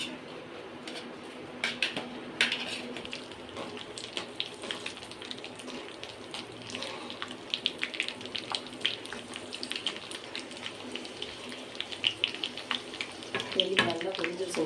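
Cashews and raisins frying in ghee for sweet pongal, a soft, busy crackle and spatter of small pops running steadily through, growing a bit livelier toward the end.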